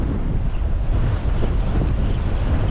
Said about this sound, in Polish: Ale wieje!